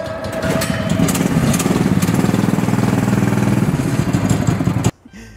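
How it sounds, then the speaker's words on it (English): Several go-kart engines at an indoor go-kart track run together in a loud, continuous buzzing roar with a rapid pulsing rhythm, cutting off abruptly near the end. "Gentlemen, start your engines!"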